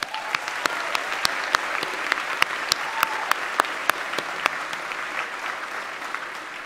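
Graduates applauded at a college commencement, with a steady bed of crowd clapping and one close clapper snapping out crisp, regular claps roughly every third of a second over the distant applause.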